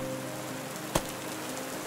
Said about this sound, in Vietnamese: Đường rừng đã tối, trời lại mưa to